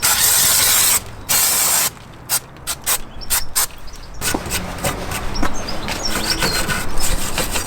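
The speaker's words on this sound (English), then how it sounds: "we can get to getting some brake and clutch cleaner on those calipers" Brake and clutch cleaner hisses from an aerosol can onto car brake calipers on a Mk2 Focus, a long blast followed by a run of short sharp bursts, then scraping and rubbing.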